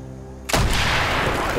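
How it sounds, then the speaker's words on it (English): An explosion blowing a hole in a wall in the Call of Duty Black Ops video game: a single sudden loud blast that cuts off a low hum and leaves a dense roaring tail. "Blow a hole in that fucking wall!"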